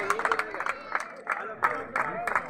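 Applause at a cricket tournament prize ceremony, several short bursts of clapping with small gaps between them and a voice talking over it.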